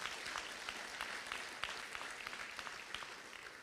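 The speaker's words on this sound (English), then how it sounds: "yeah, that's a good place to clap." Faint audience clapping at a school graduation ceremony, a thin scattered patter of hands that stays distant and steady for several seconds.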